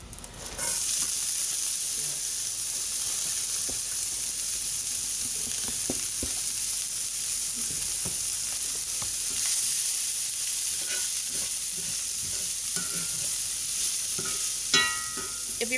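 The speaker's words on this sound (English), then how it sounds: "so I'm going to add some more oil. This pan is crazy hot. And I'm going to add my vegetables." Vegetables sizzle in a very hot pan with fresh oil added, a loud, steady crackling hiss that continues unbroken, with occasional sharper pops.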